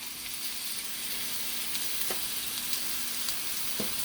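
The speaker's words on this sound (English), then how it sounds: "So I got my cast iron enameled lodge thing heating up." Ground beef sizzling in oil in a hot cast iron enameled Lodge Dutch oven, a steady dense crackle with occasional soft pops, close and alone.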